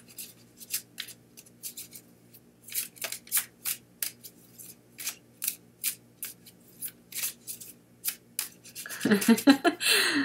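A deck of playing cards is shuffled by hand in a long series of quick, crisp riffling bursts, close and rhythmic, ending with a louder clattering rustle.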